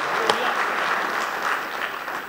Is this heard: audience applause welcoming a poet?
yes